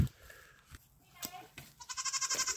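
A goat bleats close by in a long, wavering, quavering call near the end, after a stretch of faint rustling and background noise.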